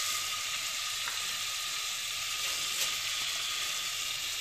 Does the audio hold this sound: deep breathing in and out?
no